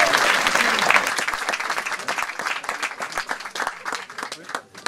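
A crowd applauds at a medieval festival in Lastours, loud and dense at first, then thinning into scattered individual claps as it fades toward the end.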